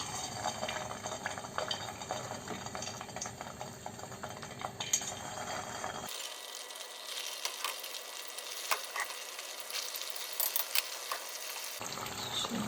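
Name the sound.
stuffed meatballs deep frying in hot oil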